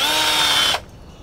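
A power drill drives a screw into wood while fitting out a Citroen Relay camper van kitchen, a loud steady whine running under a second before stopping abruptly.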